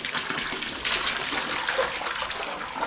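Water pours steadily into a container as the fifth gallon is added to a cowhide tanning bath, a continuous close gushing and splashing stream with no voices.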